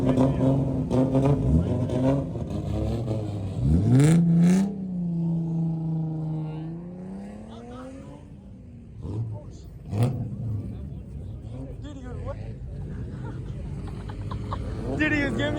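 Straight-piped Lamborghini SVJ with an aftermarket exhaust revving on a busy cruising strip, a loud rising rev followed by a sustained high drone and later blips, heard amid traffic noise and people talking.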